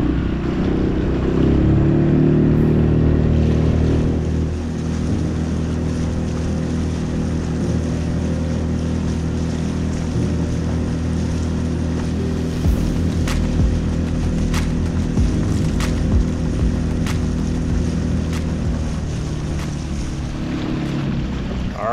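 A small 4 HP outboard motor on a square stern canoe drones steadily at full throttle against the current for a long stretch, mixed with wind buffeting the microphone and water rushing past the hull.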